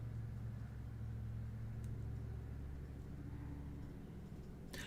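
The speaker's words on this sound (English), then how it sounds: "Huge tractor." A huge tractor rumbles past with a steady, loud low-frequency engine drone that fills the whole stretch, fading slightly toward the end as it moves by.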